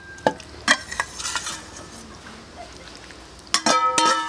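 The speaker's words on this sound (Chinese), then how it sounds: "把牛肉下锅" Beef goes into a pot over enoki mushrooms for spicy boiled beef, with a few sharp metallic clinks and scrapes of utensils, soft stirring and a low sizzle, then a louder burst of clatter at the end.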